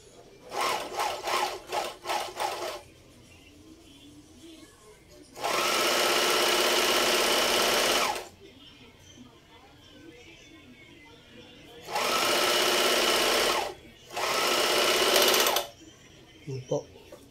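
A Juki MO-800 overlock sewing machine stitches fabric in three loud, steady motor-driven bursts of a few seconds each, separated by quieter pauses where a voice speaks softly.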